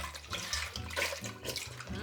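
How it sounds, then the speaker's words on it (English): Water pours into a pot on a stovetop in a home kitchen, a steady splashing trickle heard close up and fairly soft, with no talk over it. "I just put a little bit of water in here."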